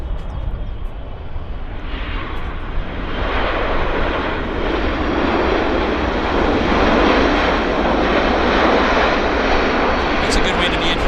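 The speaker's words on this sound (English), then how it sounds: "Korean Airlines cargo inbound from Guadalajara." A Korean Airlines cargo jet inbound from Guadalajara roars steadily as it arrives at Vancouver Airport, a broad engine rumble building slightly and holding loud throughout, with a voice speaking over it.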